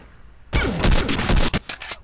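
Gunshots in a roleplay video game: after a quiet start, a loud close volley of rapid shots with a few trailing bangs.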